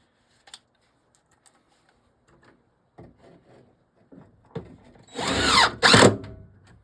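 A power drill drives screws to fasten a brick during arcade cabinet wiring work: quiet handling clicks and clatter, then two loud, close whirring bursts near the end.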